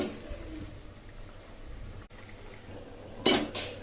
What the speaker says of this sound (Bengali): জল ফুটে গেছে, এর মধ্যে এখন মাছগুলো দিয়ে দেবো।